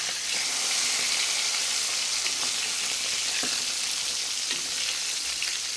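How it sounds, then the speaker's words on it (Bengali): Fish frying lightly in hot oil for a traditional Bengali fish curry, a steady close sizzle with small crackles and pops throughout, no talk. "তো আমার মাছগুলো হালকা করেই ভাজবো।"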